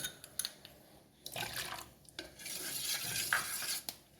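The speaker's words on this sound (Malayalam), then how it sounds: "അതാ നമ്മുടെ കൂവപ്പൊടി ഒന്ന് കുറുക്കാൻ ഞാൻ വെച്ചിട്ടുണ്ട് കൈയെടുക്കാതെ ഇങ്ങനെ കുറുക്കി കൊടുക്കണം കേട്ടോ" Arrowroot powder mixed with water is stirred nonstop in a pot as it thickens. Close spoon scraping and swishing comes in uneven bursts with light clinks against the metal, and no one talks.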